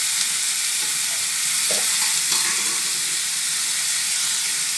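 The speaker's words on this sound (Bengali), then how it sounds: "নেড়ে চেড়ে নিচ্ছি।" Food frying in a pan is stirred, a sizzling hiss running throughout with a few soft scraping strokes of the spoon against the pan.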